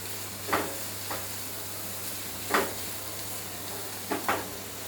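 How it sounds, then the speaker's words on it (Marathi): Chopped onion sizzles gently in oil in a pan over a medium gas flame, with a steady low hiss broken by a few soft scraping bursts of stirring, no voices. "आता कांदा सुद्धा आपण कलर चेंज होईपर्यंत फ्राय करत राहूया मीडियम गॅसवर"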